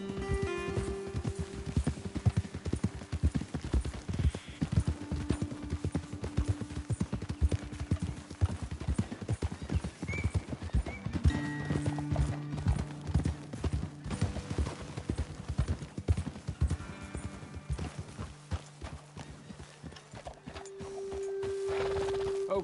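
Horse hooves clip-clop in a steady walking rhythm in the video game Red Dead Redemption 2, close and distinct, with occasional low tones and faint background sounds.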